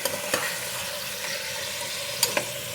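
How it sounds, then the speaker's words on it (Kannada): Mutton masala sizzles steadily in a hot pan on high flame, a constant crackling hiss broken by a few sharp clicks of stirring. "ಸೊ ಅಲ್ಲಿವರೆಗೂ ಹಾಗೆಯೇ ಹೈ ಫ್ಲೇಮಲ್ಲಿ ಸ್ವಲ್ಪ ಬೇಯಿಸ್ಕೊಳ್ಳಿ."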